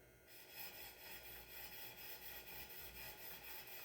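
A knife edge is scrubbed on a 1000 grit Wicked Edge sharpening stone, a faint, steady rasping rub in regular back-and-forth strokes about twice a second, with no voice.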